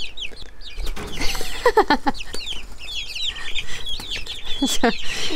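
Chickens and chicks cluck and chirp steadily inside a homestead coop, close and fairly loud, with a busy overlapping chorus of calls and soft scratching throughout.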